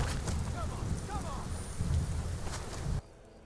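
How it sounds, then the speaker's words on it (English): Steady rain falling in the video game Skyrim, a dense hiss with low rumbling beneath and a faint whistle-like sound near the start, cutting off abruptly near the end. "Get out of the rain so it's not as loud."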